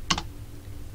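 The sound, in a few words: typing sudo command on computer keyboard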